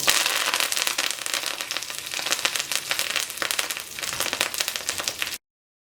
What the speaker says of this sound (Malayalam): ഈ ചൂടായ ഓയിലിലേക്ക് കറിവേപ്പില ചേർക്കാം.